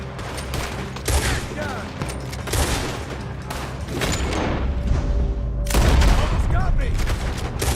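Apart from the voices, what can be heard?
gunfire in video game Red Dead Redemption 2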